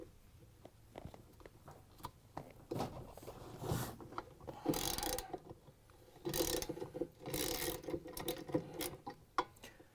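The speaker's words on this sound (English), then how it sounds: "we can grab the ratchet with the 17mm socket and loosen it up" A ratchet fitted with a 17mm socket loosens the nut on a Samsung washer's clutch assembly, giving uneven bursts of close mechanical clicking and grinding with short pauses between them.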